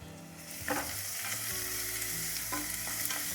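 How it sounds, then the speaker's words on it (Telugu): Sliced onions with cumin, garlic, green chillies and curry leaves frying in oil in a pan, a steady close sizzle with occasional scraping stirs and no talk. "ఉల్లిపాయలు కలర్ వచ్చేంత వరకు వేగనివ్వాలి"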